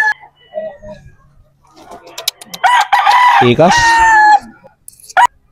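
A Boston Roundhead gamefowl rooster crows loudly and close by in one long, drawn-out call, with brief clucks and short speech before it and someone talking over the end.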